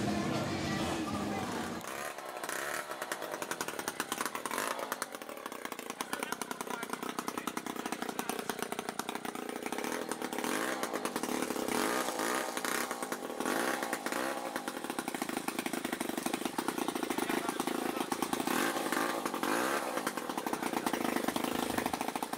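A vintage chainsaw fitted with a special chain runs steadily at a demonstration event, its buzzing engine loud and continuous throughout with voices talking over it.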